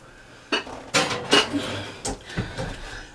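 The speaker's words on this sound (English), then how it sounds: "So we're going to pop this down here in the oven." A sauerkraut casserole dish clatters onto an oven rack, with several close metallic clanks and scrapes of cookware and the oven in a home kitchen, and brief faint talk in between.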